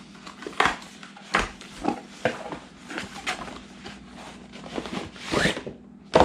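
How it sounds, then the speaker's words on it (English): Pull tab peeling open the packaging of a GoPro 12 Creator Edition, a series of close crinkly rips and tearing scrapes in short bursts, fairly quiet overall. "Let's see, we'll peel it open back here at the back. Little pull tab to take us open."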